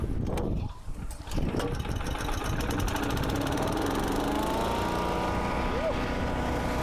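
A Champion wood chipper's small petrol engine runs steadily and loudly after starting, a continuous rough drone with a faint rising whine near the end.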